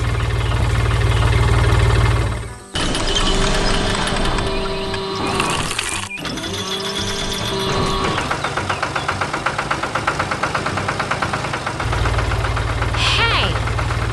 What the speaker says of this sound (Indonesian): Lihat traktor biru yang sedang bekerja keras